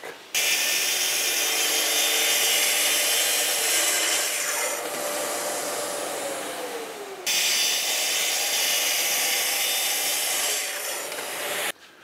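A track saw trims 10mm off a workbench top, giving a loud, steady rasping cut through the board that pauses briefly midway and then resumes until the end.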